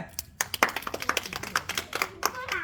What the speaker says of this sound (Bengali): তালি হবে